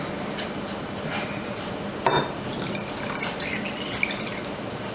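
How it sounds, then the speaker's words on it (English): Water pours steadily into a mixing bowl of eggs and butter for cake batter nearby, with a soft splashing rush, punctuated by a clink of a container partway through. "And I'm gonna add my water."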